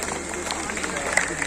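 Outdoor crowd applause at a walkathon event in Bulandshahr, continuous scattered clapping at moderate level with faint crowd murmur beneath.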